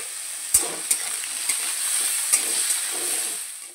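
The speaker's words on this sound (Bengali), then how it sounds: "হালকা করে ভেজে নিতে হবে" Potato pieces dusted with turmeric fry lightly in a pan, giving a steady soft sizzle with a few sharp stirring clicks and scrapes standing out above it, close by and alone without talk.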